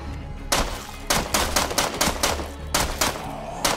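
Rapid bursts of gunfire from the State of Decay video game, several loud volleys of quick shots separated by short pauses, close and dominant with no talk over them.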